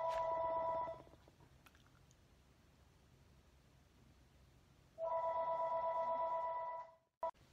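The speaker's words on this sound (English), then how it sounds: "Phone call." A telephone rings with steady electronic trills in two bursts, the first fading after a second and the second returning for about two seconds before cutting off, clear and fairly close in a quiet room.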